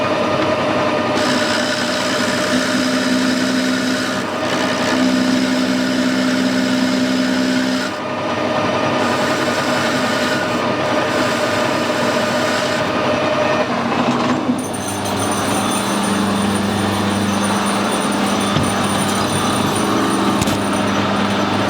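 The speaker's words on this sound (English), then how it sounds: "I will put a power feed onto it." A metal lathe runs under power feed, machining a corroded Sentinel steam boiler nut. It makes a steady, loud whirring drone with a faint tonal whine, continuous throughout with small shifts in pitch.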